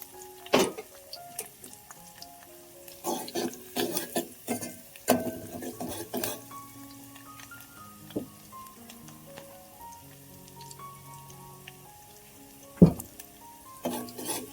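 Onion and garlic tempering is stirred in a pan, with intermittent scraping and clinking bursts over a quiet sizzle, in a kitchen cooking a spicy Malvani dried-fish curry.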